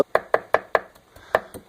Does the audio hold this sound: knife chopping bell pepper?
yes